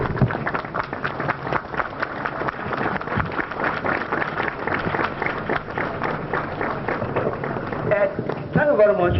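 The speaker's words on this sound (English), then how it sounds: "give them a round applause" Audience applause rises at a ceremony launching new buses for the Lagos municipal transport service, a steady roar of clapping from a large crowd that runs throughout, with voices mixed into the hall.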